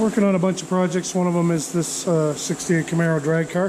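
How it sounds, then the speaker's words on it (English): A steady electric fan whirs in the background while someone talks continuously in the foreground. "pardon the noise in the background. I got the fan running."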